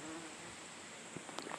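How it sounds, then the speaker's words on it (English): Faint, steady insect buzzing of bees hovering close around a person's neck outdoors, a thin continuous drone with a few brief louder passes near the end. "Yeah, we got a lot of bees out here."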